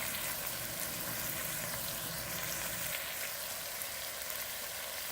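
Oil sizzles in a pan of simmering Bangladeshi chicken curry gravy, a steady bright crackling hiss that runs evenly throughout with no talking.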